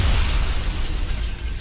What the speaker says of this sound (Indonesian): Makhluk itu meledak